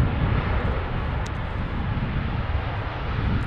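A Ryanair airliner rolling on the runway at Manchester Airport: a loud, steady low engine roar with wind-like rumble, continuous throughout and heard from a distance.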